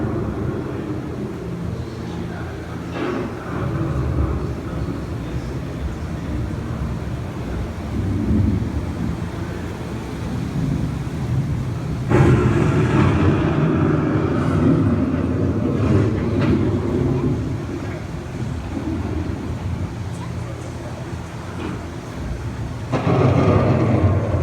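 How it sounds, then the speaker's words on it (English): A simulated approaching thunderstorm on the Living with the Land theme park boat ride, with a dense, continuous low rumble and rushing noise that swells into louder rolling bursts, under a calm narrating voice. "The approaching storm may seem violent and destructive to us, but to nature, it's a new beginning in the cycle of life."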